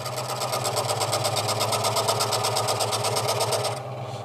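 A Ryobi scroll saw cuts 6mm MDF with a loud, steady, rapid buzzing chatter from the reciprocating blade, running continuously and easing slightly just before the end.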